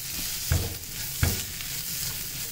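Chicken pieces frying and being stirred in a hot pan, a steady close sizzle with two brief scraping thumps of the spoon, no voices.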